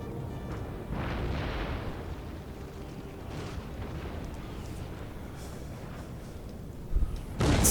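Cannon artillery fire rolls through a Napoleonic battle video game, a continuous low rumble of distant booming guns with a sharper, louder blast near the end.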